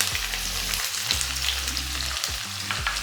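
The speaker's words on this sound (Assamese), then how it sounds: "পিঁয়াজখিনি আমি খুব ধুনীয়াকৈ ফ্ৰাই কৰি ল'ম।" Onions fry in hot oil with whole cumin for a chicken dish, crackling and sizzling steadily over a low, wavering hum close by.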